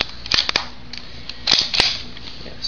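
Rifle bolt closing on a bolt-action rifle after rounds are stripped in from a stripper clip: a few sharp metallic clacks and clicks, close and fairly loud, with no talking.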